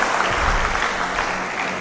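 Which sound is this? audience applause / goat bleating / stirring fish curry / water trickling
audience applause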